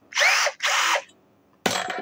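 An ECOSEN 399VF 12-volt cordless drill whirs in two short bursts with a brief gap between, then falls silent before a third burst starts at the end, loud and close, with no one talking.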